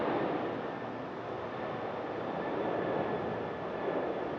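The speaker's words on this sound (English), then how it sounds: "Another airplane, if y'all hear that," Airplane passing overhead as a broad, steady distant roar that holds at a moderate level throughout, without voices.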